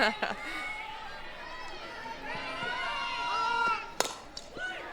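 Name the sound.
Razorback softball crowd calling for a strike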